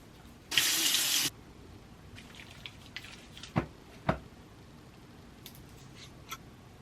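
A bathroom tap runs briefly in a sink for face washing, a loud steady rush of water lasting under a second before shutting off, followed by a few quiet knocks and clicks.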